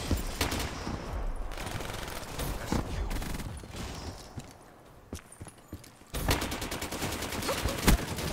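Rifle and LMG gunfire in a video game, with rapid bursts of automatic fire and scattered single shots, loud and close, broken by a brief quieter stretch before a dense fusillade resumes.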